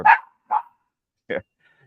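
A puppy gives three short, sharp barks spaced about half a second to a second apart, fairly close and clear, with quiet gaps between them.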